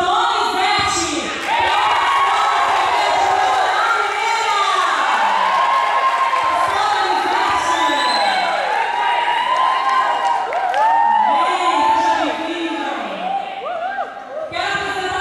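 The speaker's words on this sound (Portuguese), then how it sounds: "Gente, eu quero uma salva de palmas bem forte, hein?" A congregation at a youth mission service of an Assembly of God church in São José dos Campos claps and cheers loudly for Pastor Donizete, with many voices whooping over steady crowd noise that swells again near the end.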